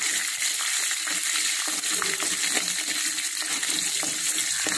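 Garlic and dried red chilies frying in a pan for arai keerai poriyal, a steady dense sizzle with bursts of crackle and spattering, close and loud throughout with no talk.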